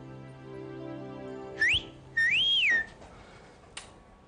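A person whistles two short rising-and-falling notes, the second longer and swooping, clear and close in a quiet room. A faint click follows.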